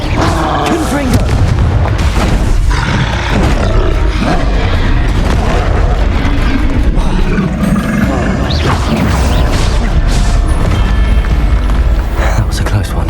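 A Confringo blasting spell explodes during hectic combat in the Hogwarts Legacy video game, with repeated deep booms and roaring blasts in a dense, loud, continuous battle mix, and voices calling out over the noise.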